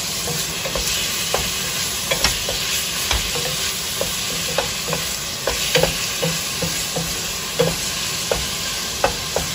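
Ground beef and pork mince sizzles steadily in a hot pan, with frequent clicks and scrapes from stirring that break up the constant frying hiss. It sounds close-up and carries on alone without speech.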